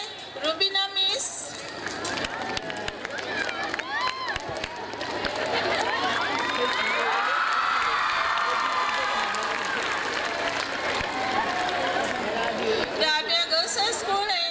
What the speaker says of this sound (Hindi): इसलिए तालिबात जोर में चिल्ला रही है